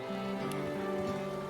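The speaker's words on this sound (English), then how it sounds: "Rain." Steady rain falls in the video game Divinity: Original Sin 2, a constant, even hiss of drops that runs through the whole moment alongside sustained tonal background music.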